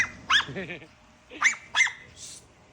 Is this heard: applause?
no